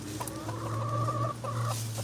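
Chickens cluck and croon in soft, drawn-out calls over a low steady hum, with a short pause before another warbling call.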